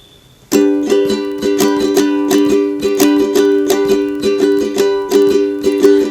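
Ukulele strummed on a single chord in a steady, bouncy down-down-up-up-down-up pattern, bright and close, repeating evenly throughout.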